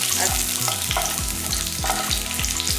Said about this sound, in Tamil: லேசாக ஒரு வதக்க வதக்கிக்கலாம்